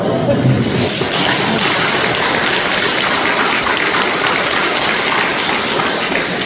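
An audience at a Catholic Advent lecture bursts into loud, dense applause, a continuous crackle of many clapping hands sustained for several seconds.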